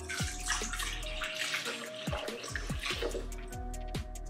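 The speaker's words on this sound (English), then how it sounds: "All right, pouring in the milk." Milk is poured into the bowl of a KitchenAid Artisan tilt-head stand mixer fitted with a dough hook, making a steady watery splashing with small drips and clinks throughout.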